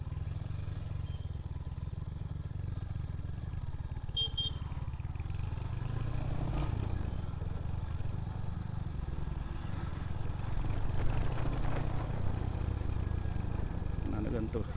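Royal Enfield Hunter 350 single-cylinder motorcycle engine thumping steadily while being ridden, a continuous low rumble with wind noise and no talk.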